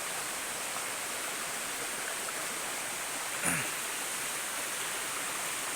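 A forest stream in rural southern Laos runs over rocks, making a steady, even wash of rushing water throughout, with one brief faint knock partway through.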